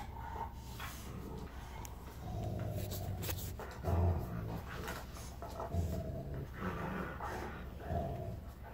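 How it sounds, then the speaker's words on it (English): A Rottweiler growls and pants close by, with low rumbling snarls and a few short whimpering, huffing bursts, fairly quiet overall. "Enough growling."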